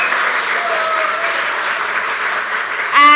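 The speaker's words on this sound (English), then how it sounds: "let's do with a sound of applause. So let's hear for the gentleman on my left" Audience applause for a debate speaker at a marketing summit, a steady wash of clapping from a crowd lasting about three seconds, with a brief louder burst and tonal sound at the very end.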